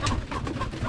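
A pigeon coos close by in a backyard, soft low repeated coos filling the short moment, with no one speaking.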